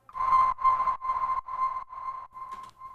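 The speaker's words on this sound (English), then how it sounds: "Then we have this little sonar sound." A techno sonar effect pings in a quick series of about seven evenly spaced, bright tonal blips, each fading slightly, close and clean with no voices.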